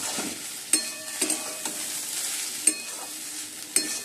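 Spring onion stalks and potatoes sizzle steadily in a pan with cumin and dried chilli, broken by a few sharp spatula scrapes and clinks against the pan as they are stirred, close and without talk.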